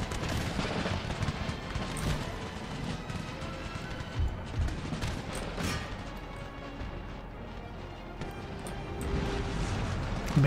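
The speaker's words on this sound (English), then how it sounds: "use some howitzers lobbing shots over the top" Howitzer artillery fire in the Empire Total War video game, dense and continuous battlefield cannon booms layered with crackling volleys of musket fire, loud and steady throughout with no speech.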